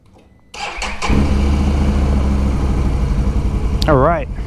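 A Can-Am Renegade 1000 ATV engine cranking and catching, then settling into a loud, steady rumbling idle close by, with a brief revving warble near the end.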